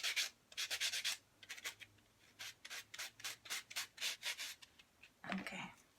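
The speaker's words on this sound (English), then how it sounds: "We're gonna get my sanding done just to roughen it up" Hand sanding of a craft surface to roughen it before gluing, a run of quick, close rubbing strokes in rhythmic bursts with short pauses, ending in a louder scuffing sweep, with no talking.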